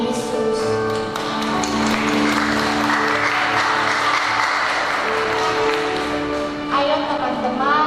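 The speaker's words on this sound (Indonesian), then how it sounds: "Ayo semua tepuk tangan untuk Tuhan Yesus." A congregation at a school Christmas and anniversary celebration applauds for Jesus, quick taps and claps mixing with sustained music tones and a voice speaking over them, loud and close throughout.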